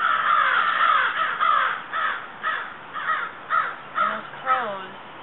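Crows caw in a steady series of harsh calls, loud and fairly close outdoors, with repeated rhythmic bursts near a dead goose's body.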